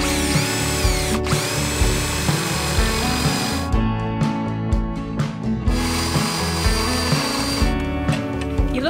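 A power drill bevels the edges of rope holes in a wooden swing seat, grinding loudly in bursts with brief pauses and changes in pitch, with no talk over it.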